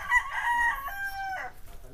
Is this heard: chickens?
yes